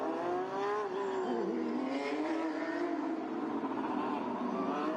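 A 666-horsepower Porsche 911 GT3 Cup race car in graphite rolls out of a corner onto the back of the grid at the Zhuhai circuit, its engine a steady, moderately distant whine with shifting pitch, heard without voices.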